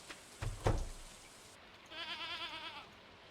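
A farm animal bleats in the Stardew Valley video game, one wavering, fairly loud bleat after a couple of soft thumps, with no talk over it.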